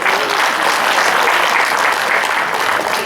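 An audience at a Hindi poetry recital (kavi sammelan) claps loudly and steadily, a dense, continuous wash of applause filling the whole stretch without pause.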